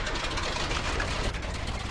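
A car engine idling in the video game Vremya Peremen 3.0: a steady, low, rumbling drone that holds even throughout, with no talking over it.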